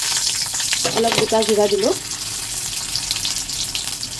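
Chili and spices sizzle in hot oil in a wok, a steady close frying hiss under a voice speaking.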